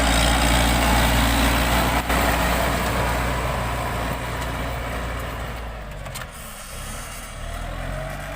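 A Kubota M7040 tractor drives a 2.20-metre rotary tiller through a dry paddy field, its engine droning loud and close with a heavy, steady low rumble that eases slightly partway through.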